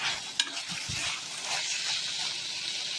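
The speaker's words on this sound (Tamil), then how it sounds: "கொஞ்சம் கை விடாமல் கிளறி விட்டுருங்க." Blood stir-fry (ratham poriyal) sizzles in a pan while a spoon scrapes and stirs it, with a few soft knocks and a steady frying hiss throughout.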